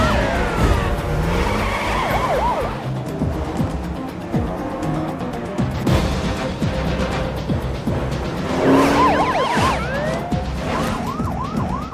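A racing-tuned taxi chases robbers' BMW M3 cars; loud tyre squeals swoop up and down over roaring engines and siren-like wails, dense and continuous with no talking.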